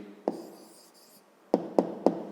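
A pen writes an answer on paper, brief scratchy strokes followed by a few sharp taps, close and quiet.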